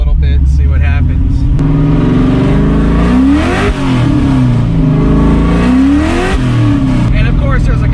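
A Chevy Corvette on Toyo Proxes R888R tires accelerating on a cold road, engine revving loudly and close with rising and falling pitch through the gears, with a voice speaking over it.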